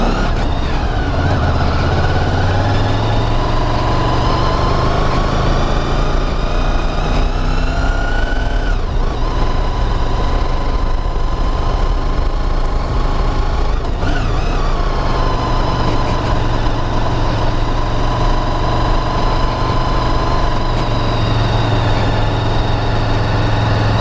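A car engine labours steadily in first gear while climbing the steep Hardknott Pass, giving a continuous loud drone that rises and falls in pitch as the revs change, with no talking.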